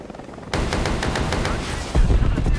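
Rockets fire in rapid succession from an AH-56A helicopter in the combat game War Thunder, a dense barrage of loud bursts that grows heavier and louder near the end, with no talking.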